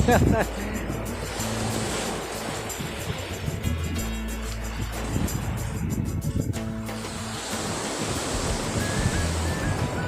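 Big waves crash and surge on the Andaman Sea shore near Phuket in strong wind, a continuous rushing roar, with someone talking over it.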